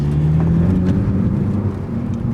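A stock 2018 Ford Focus ST on a race track, its engine droning in a steady close whir under acceleration with a slight pitch rise and no talk.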